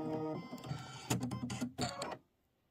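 A sewing machine stitches backwards on a Kimberbell autumn quilt, giving a quick, close mechanical whirr in two short runs with a brief pause between, then it stops to silence.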